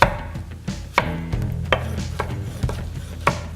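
A knife slices a tomato on a cutting board in a kitchen, with a series of about eight distinct chopping taps spaced irregularly over a soft background sizzle.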